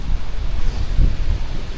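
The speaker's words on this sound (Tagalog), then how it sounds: "biglang lumalakas ang hangin" Steady rushing strong wind with low gusting rumble buffeting the microphone, continuous throughout, no voices, in Deauville, France.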